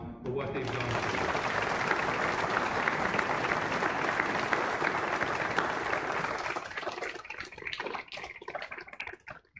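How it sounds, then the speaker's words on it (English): A graduation ceremony crowd gives a long, full round of applause for parents and family, dense and sustained before thinning into scattered claps near the end, with voices mixed in. "I'm gonna have you give them a round of applause for what they've done for you"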